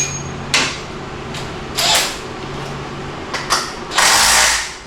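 Torque wrench clicking while tightening bolts during a timing job on a 2020 Ford F-150, a few sharp mechanical clicks and ratchet bursts spaced apart over a steady shop background.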